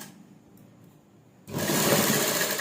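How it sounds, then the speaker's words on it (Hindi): Electric sewing machine stitching a kurti sleeve: after a quiet pause, the motor kicks in abruptly and runs a steady, fast, close-up whirring stitch to the end. "अब मैं इस पर सिलाई लगाऊंगी यहाँ तक।"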